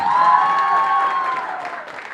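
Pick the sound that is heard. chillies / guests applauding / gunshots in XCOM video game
guests applauding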